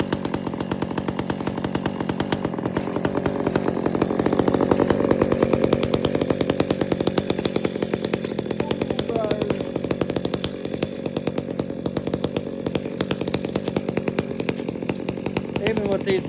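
A chainsaw runs loud and close, its engine buzzing steadily with a brief rise in pitch as it bites into tulip poplar wood.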